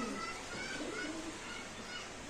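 Pigeons coo softly at a market where they are sold, with low repeated calls set against a busy background and faint voices.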